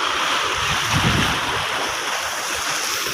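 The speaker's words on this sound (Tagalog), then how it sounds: "grabe naman ang lakas ng alon" Strong sea waves churn and wash steadily near the shore on a windy day with deep water, a continuous broadband roar with gusting wind buffeting the microphone and no talk.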